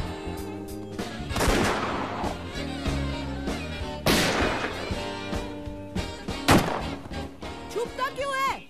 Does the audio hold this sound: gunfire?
yes